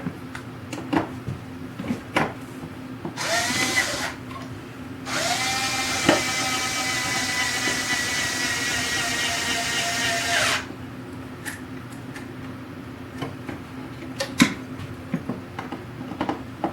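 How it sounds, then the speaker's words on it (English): Small cordless drill driving screws into a machinist toolbox, with two whirring bursts, one short and one longer. Each burst rises in pitch as the motor spins up. Scattered clicks and taps of handling fill the gaps. "It's been weeks since I charged that little drill."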